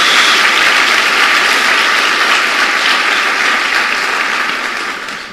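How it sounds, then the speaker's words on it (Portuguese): Applause from a church congregation during a worship service, a dense, steady wash of clapping that holds strong throughout and begins to thin out only at the very end. "Uma salva de palmas ao Senhor."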